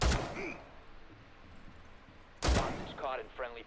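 Gunfire in a multiplayer video game as a teammate is caught in friendly fire: two sharp shot bursts, one at the start and a louder one midway, followed by voices talking.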